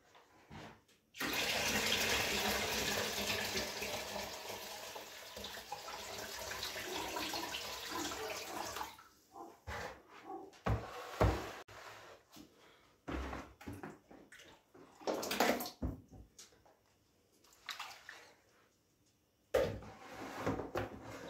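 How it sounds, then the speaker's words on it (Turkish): Whey from making village cheese is strained into a basin, first as a steady pouring splash for several seconds, then as broken trickles, drips and handling knocks, close by and without voices. "Şu suyumu da gene leğenime süzdüreyim."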